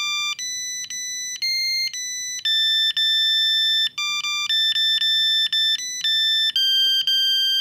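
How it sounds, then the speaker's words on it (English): An Owlet baby monitor base station plays its alert melody, the lullaby Hush Little Baby, as a clear sequence of bright electronic tones that step through the tune with steady rhythm, loud and alone. "the base station and your phones will play a sweet little rendition of the lullaby"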